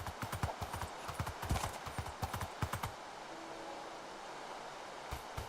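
Horse hooves clip-clop steadily in the video game Minecraft as a horse is led along, with close, rhythmic hoofbeats for about three seconds and then quiet background hiss with a faint thud near the end.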